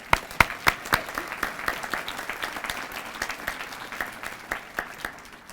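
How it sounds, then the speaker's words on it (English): A dinner audience at a law alumni awards event claps, the applause starting with several sharp, loud individual claps and thinning into lighter, uneven clapping that gradually fades. "How about a round of applause for all of you?"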